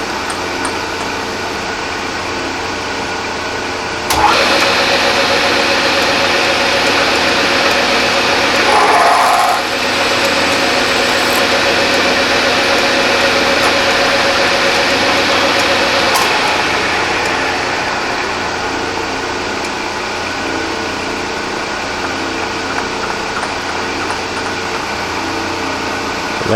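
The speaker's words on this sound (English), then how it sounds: "the whole drill and ream through this body for the gas passage" A reamer cutting the gas passage through a propane burner valve body, heard as a loud, steady machining whir that starts abruptly and runs on for a long stretch before easing off, with no talk.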